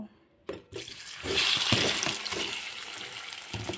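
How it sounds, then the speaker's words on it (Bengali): Boiled, cut potatoes dropped into hot oil for an egg curry, a brief clatter followed by a steady, close sizzling hiss that fills the rest of the moment. "এখন আমি সেদ্ধ করে কেটে রাখা আলুগুলোকে তেলের মধ্যে দিয়ে দেব।"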